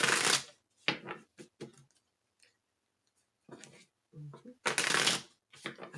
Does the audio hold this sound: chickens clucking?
no